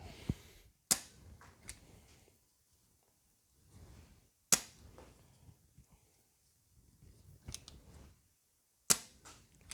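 A foam dart blaster firing AccuStrike darts toward a net, four sharp snapping shots spaced a few seconds apart, close by, with quiet handling noise between them.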